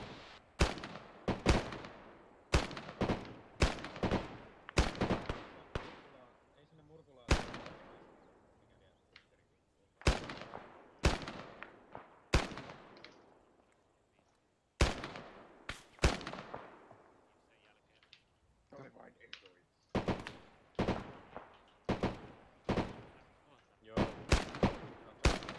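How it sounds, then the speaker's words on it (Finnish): Sharp gunfire from the modded military shooter game Arma 3 rings out in repeated bursts and single shots, loud and close, with echoing tails between volleys and quiet gaps. "Mä ammun sinne kompleksiin, mikä siellä on."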